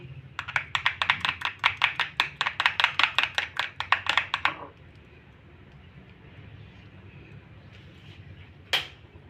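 Salted gram flour (besan) batter is beaten briskly in a bowl, giving a fast, even run of about twenty crisp taps over four seconds, then near silence with one lone click later.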